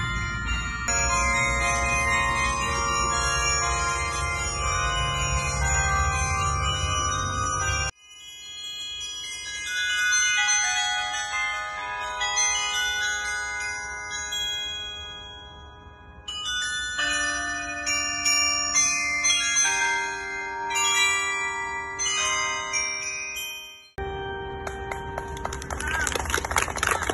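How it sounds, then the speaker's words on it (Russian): Carillon bells ring out in Belgorod for the Day of the Baptism of Rus, layered tuned bell tones sustaining and overlapping in a loud continuous peal, with a brief pause, then more melodic strikes. "Послушать колокола."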